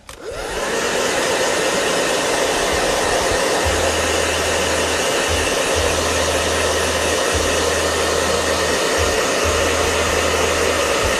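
A hair dryer runs loud and steady throughout, a constant breathy blowing roar with a low hum pulsing underneath.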